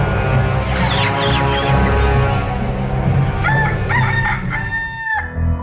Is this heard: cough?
no